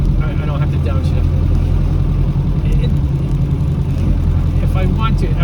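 Low, steady engine rumble of a 1957 Mercedes 180D putting along at about 20 miles an hour in fourth gear, heard from inside the car and continuous throughout.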